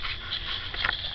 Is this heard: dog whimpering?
yes